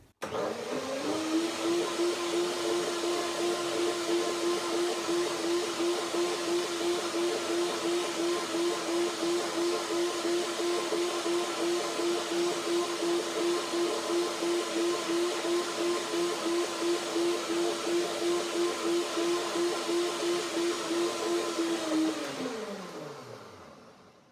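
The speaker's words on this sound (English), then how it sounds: "One more blending." A blender whirs through a thyme cashew cream dressing, a loud steady motor drone with a pulsing churn that runs for over twenty seconds and then winds down to a stop at the end.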